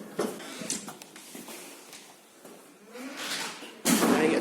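Old lift doors slide open with a quiet mechanical rumble and rattling, followed by a louder clunk near the end.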